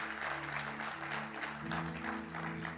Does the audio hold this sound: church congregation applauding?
yes